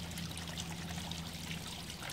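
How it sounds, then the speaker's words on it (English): Water sprays from the cannon of a hand-cranked pirate siege automaton, a soft continuous trickling hiss with a faint low mechanical hum beneath. "So the plumes of water from the pirate's cannon."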